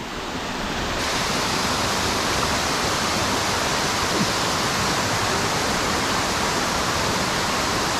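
Bolinao Falls in Pangasinan roars as a steady, dense wash of falling water, loud and close, continuous throughout with no pauses.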